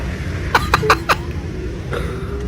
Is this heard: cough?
yes